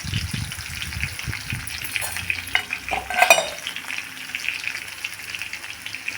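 Cumin seeds crackling in hot oil: a close, busy sizzle with brief popping bursts that swell midway and then settle into a steady hiss.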